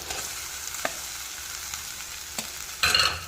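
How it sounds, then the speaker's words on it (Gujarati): Cooked rice is stirred into a tomato mixture frying in a pan for South Indian style tomato rice, with a steady sizzle, a few sharp spoon scrapes and a louder burst of frying near the end. "હવે આપણે ભાત નાખી દઈએ।"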